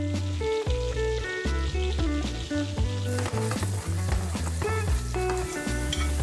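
Tomatoes stir-frying with garlic and chili flakes in a hot pan give a steady, loud sizzle that runs the whole time, with a tonal, music-like layer over it.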